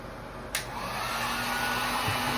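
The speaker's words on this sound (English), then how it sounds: "a heat gun is your bestie when you're trying to remove a backsplash" A heat gun blows steadily to warm the adhesive behind a bathroom backsplash, a continuous airy whoosh with a faint whine that starts with a click and holds at an even level throughout.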